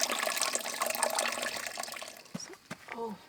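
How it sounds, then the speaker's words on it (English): Water gushes and splashes steadily out of a camp cooking pot's built-in drain holes as cooked fettuccine noodles are drained outdoors, then tapers into trickles while people talk briefly. "Let us drain off the water from the noodles."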